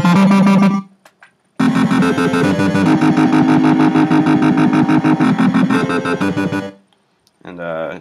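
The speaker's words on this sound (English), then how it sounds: "And this is the wobble bass. It sounds like this." Synth wobble bass patch in a bootleg electronic remix, a loud growling tone that pulses in fast rhythmic wobbles for several seconds, with short bursts of the same bass before and after brief silences.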